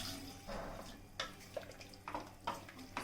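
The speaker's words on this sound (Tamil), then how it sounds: "தேங்காய் பேஸ்ட்டை சேர்த்துட்டு தேவையான அளவு தண்ணியும் சேர்த்துக்கலாம்." Water pours and splashes into a pan of Chettinad-style chicken gravy with coconut paste, faint and close, with a few short gurgles and drips over a low, continuous flow.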